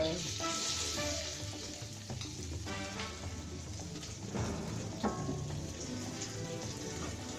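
Long beans stir-fried in a hot pan give a steady, close sizzle with occasional scraping and stirring clatter, and no voices.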